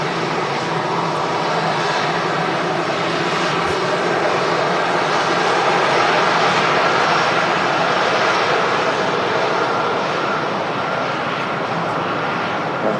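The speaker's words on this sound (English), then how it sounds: "Rotating there, Cathay Pacific 5216, and Airbus A350-900." A Cathay Pacific Airbus A350-900 jet taking off at Manchester Airport: a loud, continuous roar of engines under full thrust, holding steady and broad throughout, with no talking.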